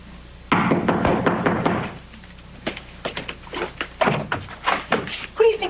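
Knocking on a door in a soap opera scene: a rapid series of firm knocks in the first couple of seconds, followed by more scattered knocks and bumps mixed with talking voices.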